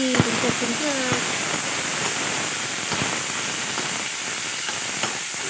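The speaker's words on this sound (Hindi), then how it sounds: "मटर तो फ्राई हो गया, ये मटर का फ्राई हो गया।" Peas (matar) sizzle and crackle in a hot pan with a little chilli, a steady hissing fry dotted with sharp pops, while a voice speaks over it near the start.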